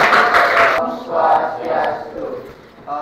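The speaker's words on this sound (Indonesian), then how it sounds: "Tepuk tangan dulu untuk kelompok 4 untuk mempresentasikan" Classroom applause for a student group about to present, a burst of clapping and crowd noise at the start that fades into murmuring voices of students in a school setting.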